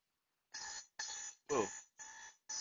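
A ringing alarm clock sounds in five loud, evenly spaced bursts, each about half a second long with short silent gaps between them, heard close and without talk.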